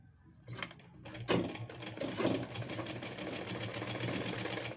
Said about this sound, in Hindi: इस तरह से डबल फोल्डिंग करते हुए हम सारी स्ट्रिप्स को स्टिच करेंगे।